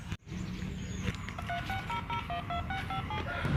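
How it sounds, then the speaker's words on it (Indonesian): A mobile phone rings nearby with a run of short, bright electronic beeps rising and falling over steady background noise. "Wah, telepon nih."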